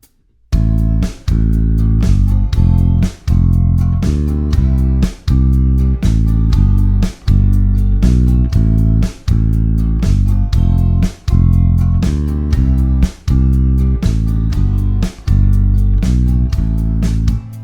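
Bass line with approach notes placed above the roots, played in a steady quarter-note rhythm; loud, close, even plucked notes repeating in short phrases with regular brief gaps.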